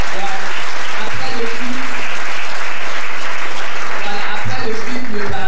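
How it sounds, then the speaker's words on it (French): A church congregation bursts into sustained applause during a Sunday service, a dense, steady wash of many hands clapping with voices faintly mixed in beneath it. "On va applaudir le Seigneur pour vous."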